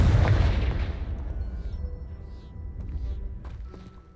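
A Confringo blasting spell detonates in Hogwarts Legacy, a loud close boom at the start that rolls off into a long, rumbling decay with faint debris and ambient sounds trailing after.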